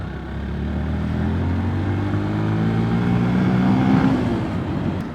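A Yamaha FZ-S Hybrid FI Version-4 motorcycle, heard while riding on the road, with a steady, loud exhaust beat and engine drone that swells slightly as it pulls, along with rushing wind noise.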